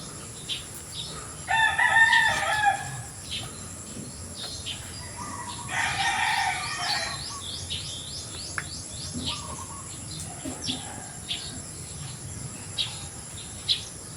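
A rooster crows twice in the middle distance among clucking chickens, with chirping insects and birds filling the background.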